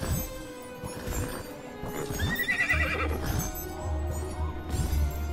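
A horse whinnies in the video game Minecraft Legends over clip-clopping hooves and layered game music, with a low rumbling thud partway through.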